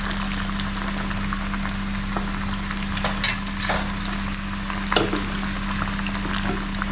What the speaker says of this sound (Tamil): மீன் பொரியும் போது.